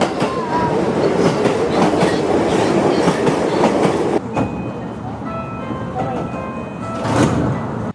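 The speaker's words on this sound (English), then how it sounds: "the train is here, the Yokohama Line, heading towards Higashi Kanagawa Station" A Yokohama Line train bound for Higashi-Kanagawa rumbles and clatters loudly into a station, wheels clacking on rails, then the noise drops to a quieter hum with a brief swell near the end.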